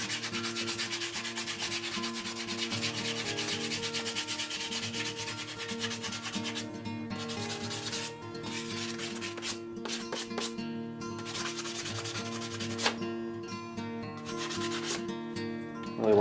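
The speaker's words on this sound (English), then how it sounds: "I'm going to switch to a finer grit of sandpaper and I'm going to work the end and the tip." Turned poplar wand spinning on a lathe while 320 grit sandpaper works the end and tip, a steady close rubbing hiss over the lathe's continuous hum, with the sanding breaking up into uneven strokes later on.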